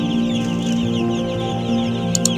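Broiler chicks on a poultry farm make a constant, dense cheeping and peeping chorus over a steady mechanical hum, loud and close with no talk.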